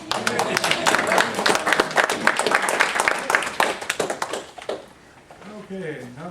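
Clapping breaks out at a council meeting after a motion carries, a dense patter of hands that fades out after about five seconds, with voices murmuring underneath and a short bit of talk at the end.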